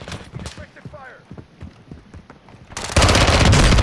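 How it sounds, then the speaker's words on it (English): Rapid gunfire from a shooter behind the player in a video game, a burst of loud automatic fire that erupts suddenly at the end after quieter scattered in-game noises. "Oh, somebody shooting behind."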